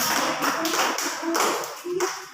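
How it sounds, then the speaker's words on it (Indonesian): Classroom clapping from third-grade primary school pupils applauding group 1, a brisk uneven patter of many small hands lasting a couple of seconds, with children's voices faintly mixed in. "Ya, berikan tepuk tangan untuk kelompok 1."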